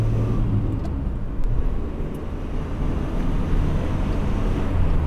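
The Toyota engine of an EP71 Starlet with a four-speed transmission drones in a steady low rumble while pulling through the gears, with wind buffeting the microphone throughout.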